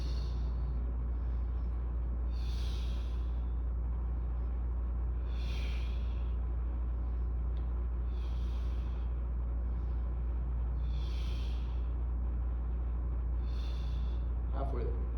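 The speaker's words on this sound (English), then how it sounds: "Exhaling hard at the end." Hard exhalations during an upper body workout on a roller, a sharp breathy puff about every three seconds over a constant low hum, with faint talk in the background.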